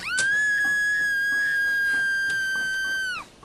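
A high, screaming train whistle from a bone-built locomotive with a coffin car in Train Simulator 2017 holds one long, steady, shrill note for about three seconds, loud and close, then cuts off sharply.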